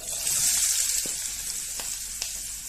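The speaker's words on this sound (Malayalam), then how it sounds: "അപ്പം കടുക് പൊട്ടുന്നുണ്ട്" Mustard seeds crackling in hot oil in a pan, a steady close sizzle with a few sharp pops scattered over a couple of seconds, no voices.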